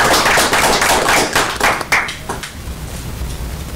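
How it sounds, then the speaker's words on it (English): Applause at a county commissioners meeting, a burst of many hands clapping that stays loud for about two seconds, then thins out and fades into the room's background murmur. "I would like to recommend a round of applause for the efforts of our health department."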